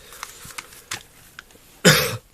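A single loud, harsh cough bursts out near the end, following a few faint clicks and soft rustles.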